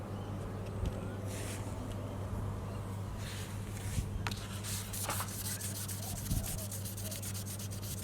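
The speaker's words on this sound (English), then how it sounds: "Apply oil on sandpaper and start sanding the plastic seal." Gentle, continuous wet sanding of a sun-damaged plastic car window trim seal with oiled sandpaper close by, a soft rasping scrub that goes on steadily with occasional light taps, over a low constant hum.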